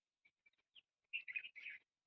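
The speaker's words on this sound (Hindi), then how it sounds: "आवाज़ देखिए चिड़ियों की आ रही है" Birds chirp in the early morning, a few short, faint tweets followed by a denser burst of chirping. The calls sound distant and quiet against an otherwise still background.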